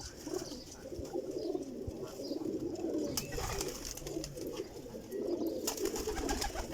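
Many pigeons cooing together in a steady, overlapping murmur, close by, with occasional wing flutters and rustling, captured at a pigeon dealer's lot where birds are sold in a batch of fifty.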